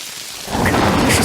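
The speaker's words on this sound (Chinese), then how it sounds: "那给我把伞吧，下雨了" Heavy rain pours down, and a loud thunder rumble swells in partway through, close and enveloping.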